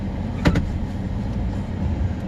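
Steady low road rumble from inside a moving car, with a couple of brief thumps near the start and no voices.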